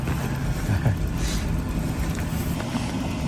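A low, rumbling tractor engine starts and runs steadily throughout, loud and close, with rough mechanical chugging and some wind-like hiss over it.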